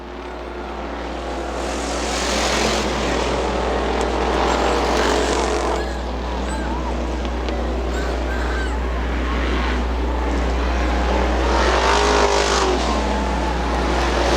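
Street stock race cars run the final lap at Butler Motor Speedway, a continuous loud engine roar from the field with swelling passes as cars sweep by, steady low hum throughout.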